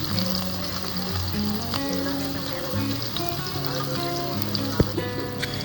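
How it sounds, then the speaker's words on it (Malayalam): Beef and finely chopped onions fry in oil in a pan, producing a continuous even sizzle with faint background tones running underneath. "ഒരു പാനിൽ ഓയിൽ ഒഴിച്ച് ചെറുതായി കട്ട് ചെയ്തിട്ടുള്ള സവാള ഇട്ട് ഒരു ബ്രൗൺ കളറായതിനു ശേഷം ഈ ഒരു ബീഫ് ഇതിലേക്ക് ഇട്ട് കൊടുക്കുക"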